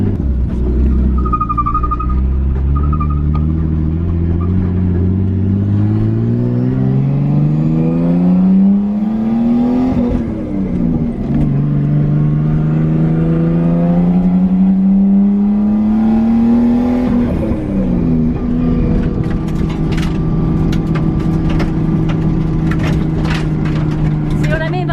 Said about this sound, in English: very bouncy, loud and obnoxious car